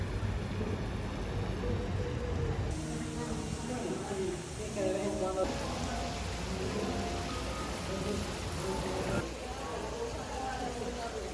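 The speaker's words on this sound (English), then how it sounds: "Finally, rain has come." Steady rain hisses and patters on the streets of San Salvador throughout, with tonal background sounds running over it.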